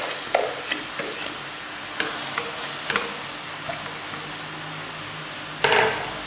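Sliced onion rings go into a karahi pot of hot oil, producing a soft, steady frying hiss with scattered light clinks and taps from stirring, close and fairly quiet.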